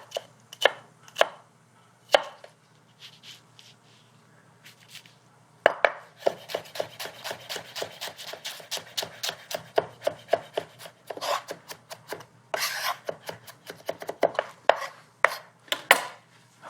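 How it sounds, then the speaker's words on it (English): A knife dices shallots on a cutting board in a kitchen, giving rapid, crisp chopping taps in quick bursts, close and clear, with brief pauses between runs and no talking. "I'm going to slice some shallots or dice some shallots"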